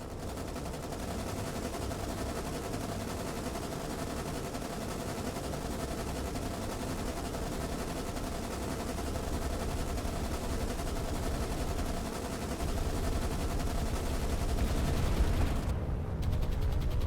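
Sustained machine-gun fire from strafing biplanes in the naval video game War on the Sea, a steady, dense rattle running unbroken for the whole stretch alongside a constant engine drone, with a slight rise in intensity near the end.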